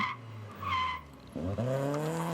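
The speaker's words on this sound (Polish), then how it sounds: "Piszczące opony" Rally cars at a stage of the Platinium 5 Rajd Memoriał on an asphalt course, including BMWs, squeal their tyres through a turn, whining pitched tones over a steady engine drone, fairly loud and continuous.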